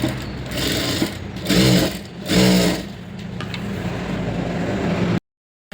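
An electric sewing machine stitches the neck of a blouse using the main cloth, running in steady bursts at close range with a few louder surges and no voices.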